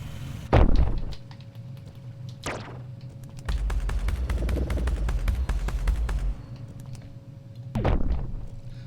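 Gunfire from a newly acquired weapon in the video game Lancer: a sharp loud shot near the start, a second one around two and a half seconds, a rapid burst of fire in the middle, and another loud blast near the end.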